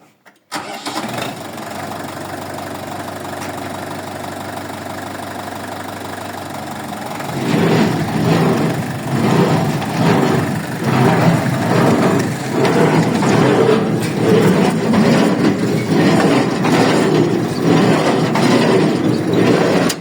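A tractor engine idles steadily, then a Wartsila hay baler driven by the tractor starts up and runs with a loud, rhythmic thumping cycle that repeats steadily until the end.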